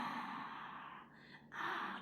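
A breathy yogic exhale heard close up, airy and steady, briefly dipping before a second surge of breath.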